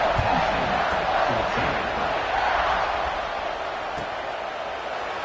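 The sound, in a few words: football stadium crowd cheering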